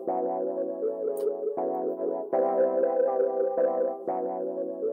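Sustained synth chords with a warm, gritty tape saturation from a tape-style plugin, changing every second or so in a steady sequence.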